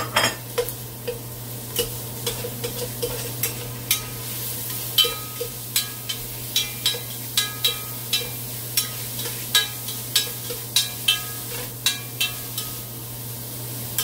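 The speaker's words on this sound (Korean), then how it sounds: "끓기 시작해서 고기를 좀 볶도록 하겠습니다" Meat stirred in a pot for Korean seaweed soup, the spoon scraping and tapping the bottom in a steady rhythm of clicks over a low hum and faint sizzle, close and fairly quiet with no talk.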